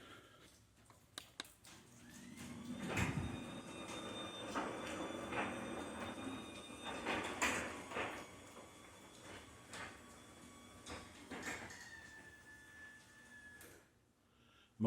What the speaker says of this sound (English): Most of that racket is my garage door hinges, because my garage door is 27 years old now